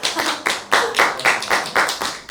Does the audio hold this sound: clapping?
yes